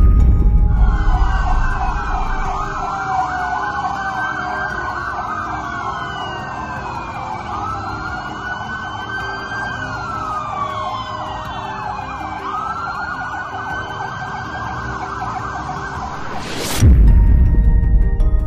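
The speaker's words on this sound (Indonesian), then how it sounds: "Iring-iringan kendaraan dengan raungan sirine yang seakan memberi isyarat darurat itu" A convoy of vehicles with wailing sirens passes in South Jakarta at night; several overlapping sirens rise and fall steadily over road noise, loud and continuous, ending in a sudden louder burst.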